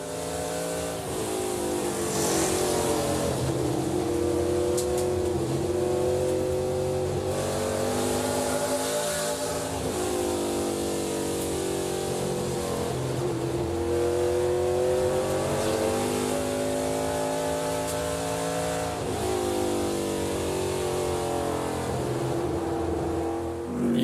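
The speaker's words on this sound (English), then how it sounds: "just see what it's like to race around this 4/10 of a mile oval here at Berlin" An ARCA race car's engine, recorded onboard while racing around the 4/10-mile Berlin Raceway oval in 2021, roars loudly and continuously, its revs climbing and dropping in repeated cycles through each lap.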